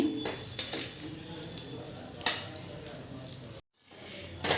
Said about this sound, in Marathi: मीडियम टू लो गॅस वरतीच मी हे सगळे मसाले भाजून घेते